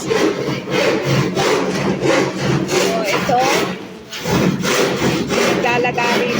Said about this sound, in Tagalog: naglalagari dito.